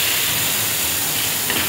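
Pork cooks in a pan with water, giving a loud, steady hiss and bubbling without breaks for the whole short stretch.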